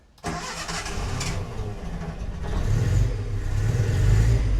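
A 1970s Datsun 140J Violet engine cranks and catches after 20 years unused, turning over quickly into a rough, rising idle with a growing low rumble, loud and close, with no talk over it.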